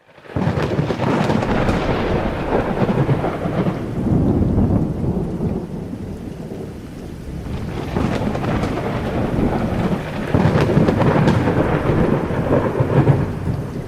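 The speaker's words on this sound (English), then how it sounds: "I love thunderstorms" A thunderstorm in Europe brings steady heavy rain, with rolling rumbles of thunder that swell and fade across the whole stretch, and no voices.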